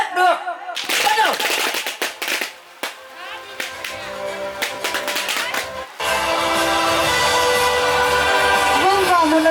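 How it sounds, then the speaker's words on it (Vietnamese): Firecrackers burst in rapid, crackling volleys at an outdoor Jrai wedding ceremony, loud and dense, with a brief lull before a sustained barrage and music-like tones underneath. "những tiếng pháo rất là giòn giã hòa chung với niềm hạnh phúc của cô dâu chú rể"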